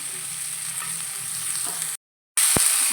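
Chopped pumpkin with its peel fries in a pan in a steady, bright crackling sizzle that cuts out briefly, then returns just as strongly.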